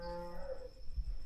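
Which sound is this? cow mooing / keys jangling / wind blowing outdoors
cow mooing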